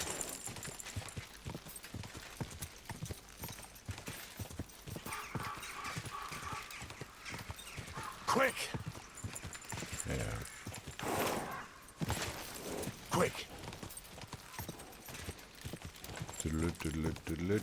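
Horse hooves clop in Kingdom Come: Deliverance II, quick and steady at first, then slowing, mixed with outdoor game ambience and occasional louder bursts.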